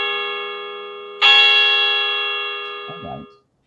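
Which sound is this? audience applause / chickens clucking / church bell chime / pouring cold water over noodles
church bell chime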